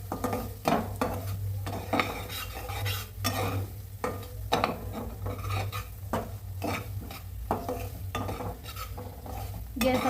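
Semolina (rava) being roasted over a low gas flame, a spoon scraping and stirring it around a pan in repeated strokes against a steady low hum, with no talking.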